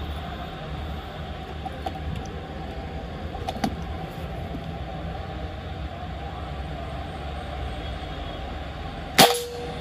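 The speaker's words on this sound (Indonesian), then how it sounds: "Kita akan menembak pakai mimis Barracuda Match dengan sasaran yang paling atas, sisi kuning paling atas." An air rifle fired with Barracuda Match pellets at a target, a single sharp crack near the end after a stretch of steady outdoor background noise.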